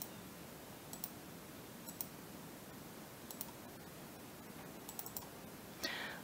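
A computer mouse clicks now and then while a boundary is traced in STAAD.Pro structural engineering software: faint, sparse single and double clicks over a steady background hiss.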